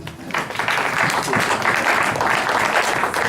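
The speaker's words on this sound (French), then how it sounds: "si vous aviez compris, vous allez applaudir." Church congregation applauding during a sermon, a sustained wash of many hands clapping at once with some voices mixed in underneath.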